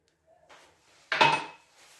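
Sugar pours into an orange cake batter in one short, rushing burst that swells quickly and fades within half a second, after some faint bowl handling.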